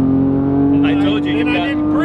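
A Porsche GT3's engine holds a steady high-revving drone after a missed upshift, loud and close from inside the car, while people talk excitedly over it.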